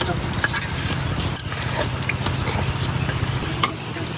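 Pumpkin and red lentil dal simmering and being stirred in a pot, a steady close bubbling and sizzling hiss with faint scraping, fairly loud and continuous.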